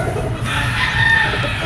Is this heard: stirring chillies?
no